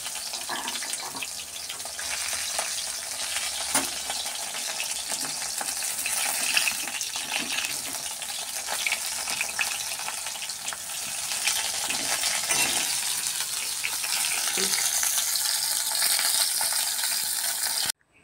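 Thick water lily (shapla) stems frying in hot oil until reddish, a loud continuous hiss and crackle filling the whole stretch with occasional stirring knocks, no talk.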